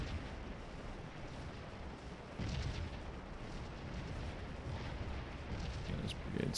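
Long-range artillery in Scourge of War: Antietam booms at a distance, with a duller thud partway through and scattered crackling shots over a constant low battlefield rumble.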